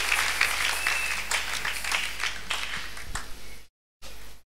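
Applause from a church congregation at a worship service, a dense patter of many clapping hands that carries on steadily before breaking off into near silence.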